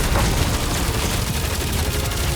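Gunfire in the action video game Marvel's Guardians of the Galaxy, a short, loud, dense barrage of shots and booms blending into one continuous roar.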